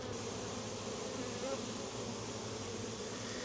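A dense, steady buzz from many honeybees in a hive close by, a constant droning hum with no talking.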